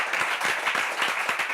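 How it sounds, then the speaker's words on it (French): A quiz-show audience claps for a contestant in a short, moderately loud burst of applause, with quick, steady clapping throughout. "On peut applaudir Didier déjà"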